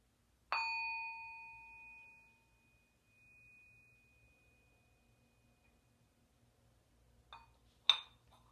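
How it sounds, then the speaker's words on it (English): A mindfulness bell is struck once and rings with a clear sustained tone that slowly fades to silence, followed near the end by two softer, brief chimes or clinks. "I'm going to ring the bell to end our practice. Try to listen to the sound until it totally fades away."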